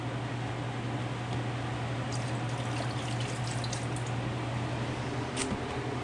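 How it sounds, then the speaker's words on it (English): Beef broth poured into an Instant Pot, a steady liquid splash and trickle that runs close and continuous with a few sharper drips late on, alone without talk over a low steady hum. "I'm going to pour in about half of this beef broth because I know this is 4 cups."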